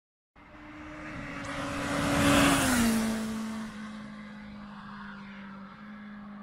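A stock BMW S1000RR or Aprilia RSV4 1100 Factory superbike approaches and screams past at high revs, the engine note swelling to a loud peak and then dropping in pitch as it pulls away.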